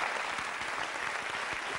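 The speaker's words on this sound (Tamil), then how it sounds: "அதுக்கே மிகப்பெரிய கைத்தட்டு" An audience applauds on stage at a Tamil TV celebrity show, a dense, steady wash of many hands clapping at even loudness throughout, with no voices.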